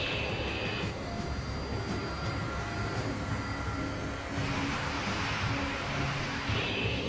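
A West Caribbean airliner's engines roar steadily and loudly as it takes off from runway 21 left, a dense, continuous jet rumble with a thin high whine and no pauses.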